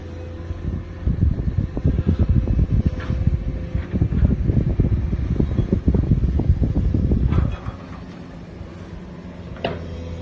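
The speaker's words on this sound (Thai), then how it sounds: "อาจจะมีเสียงลมมากก็ต้องขอตัวขอไปด้วยนะ" Strong wind buffets an outdoor microphone at Nong Han lake in Sakon Nakhon, a loud continuous rumble with gusty bursts that ease off near the end, leaving a quieter tail.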